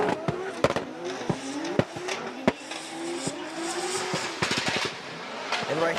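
Formula Drift Japan cars slide through a drift, tires squealing in long wavering tones while engines rasp and bounce off the rev limiter in sharp repeated bursts, loud and close.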